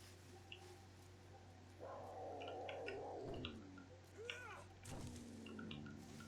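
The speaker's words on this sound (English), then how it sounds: "That's a cat." A cat in the video game 7 Days to Die, set in a desert area, gives a few drawn-out meows and yowls, fairly close, over a low steady game hum with brief clicks.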